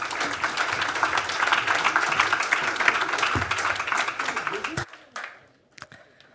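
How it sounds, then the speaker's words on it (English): Conference audience at the Cleantech for Europe Summit 2025 giving panelists a dense, sustained round of applause that stops abruptly, leaving a few scattered claps in a quiet room. "Let's have a round of applause"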